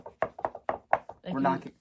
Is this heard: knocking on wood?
yes